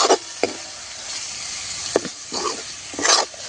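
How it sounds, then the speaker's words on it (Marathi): Vegetable with crushed peanuts stir-fried in oil over a wood-fired stove, giving a steady broadband sizzle broken by a few sharp spatula knocks and stirring scrapes, close and moderately loud, with no talking. "इथे परतून घेऊया छान"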